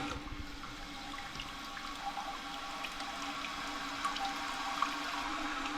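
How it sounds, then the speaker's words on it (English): A toilet tank refilling through a newly installed fill valve, water rushing steadily and evenly at moderate level with no surges, continuous throughout and without speech. "let's turn this water valve back on. You can see now that it immediately starts to fill."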